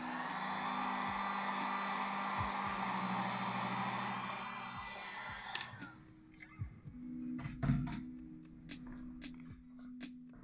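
A hot air blower runs steadily with a broad whooshing roar while heating a laptop touchpad, then cuts off midway, leaving scattered small clicks and handling knocks.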